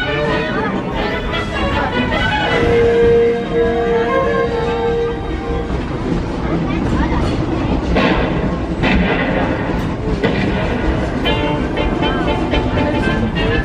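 Disneyland Paris Railroad train running through the park: a continuous rumble of the rolling train with a brief whistle-like tone early on and muffled voices mixed in.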